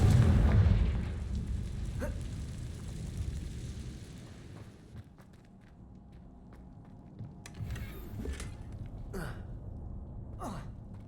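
A Confringo fire-blast spell in Hogwarts Legacy booms loudly at the start, then rumbles and fades, followed by a few sharp whooshing magical bursts later on.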